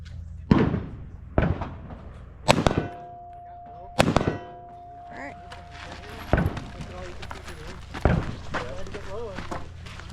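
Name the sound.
rifle and pistol shots at a shooting match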